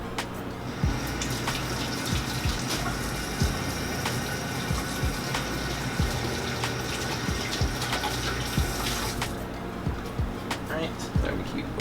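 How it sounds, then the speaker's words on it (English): Water runs from a kitchen tap as hands are washed, a steady close splashing gush lasting the whole stretch with small clatters over it. "Let me wash my hands real quick."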